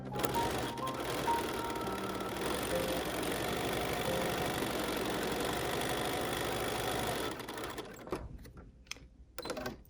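A sewing machine quilts a small pumpkin trivet, its needle chattering in a fast, even run for most of the time, then slowing and stopping near the end.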